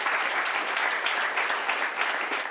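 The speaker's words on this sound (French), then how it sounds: "On l'applaudit très fort." A studio audience claps for a guest on a French-language talk show, a dense, steady burst of applause that is even and sustained.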